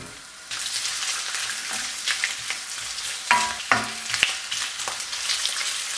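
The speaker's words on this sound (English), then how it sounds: "Here I have olive oil. My pan is heated. I'm adding the sucuk." Sucuk sausage hits hot olive oil in a heated pan, setting off a close, steady sizzle with scattered crackles and sharper pops throughout.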